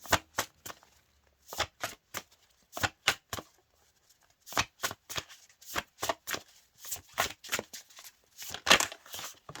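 Tarot oracle cards shuffled by hand in quick riffling bursts, a run of sharp snaps and flutters with short pauses between, close and fairly clear, no voices.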